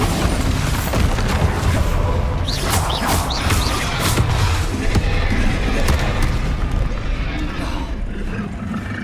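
Spell explosions from Confringo and Bombarda go off in a Hogwarts Legacy battle: loud, dense, continuous blasts and crashes with no break, and shouting voices mixed into the din.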